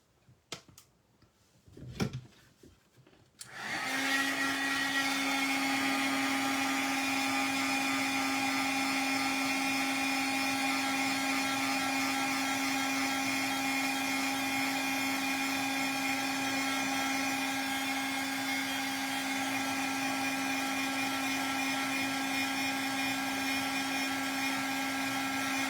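Heat tool blowing steadily while embossing powder is set on an ornament card, a loud, continuous whirring hum with a fixed tone, switched on after a few brief taps and running alone for the rest.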